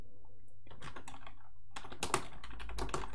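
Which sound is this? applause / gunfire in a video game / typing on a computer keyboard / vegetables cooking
typing on a computer keyboard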